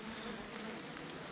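A strong honey bee colony in an opened hive hums in a dense, continuous buzz, close and even throughout, with no voices.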